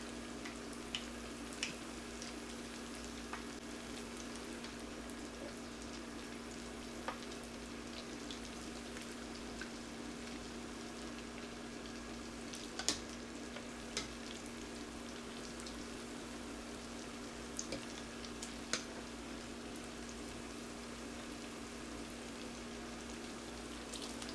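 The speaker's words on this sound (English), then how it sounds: "we're gonna let them fry" Ackee and saltfish stuffed dumplings frying in peanut oil, a soft, even crackle of bubbling oil with occasional sharper pops, quiet and steady throughout.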